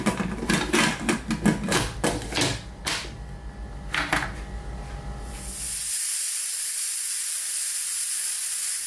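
A pressure cooker holding lamb stew builds to pressure: a spell of rapid clattering and sputtering bursts gives way to a steady, loud hiss of escaping steam that continues to the end.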